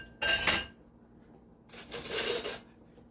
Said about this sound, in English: So right now I am just mixing it in with the coconut milk.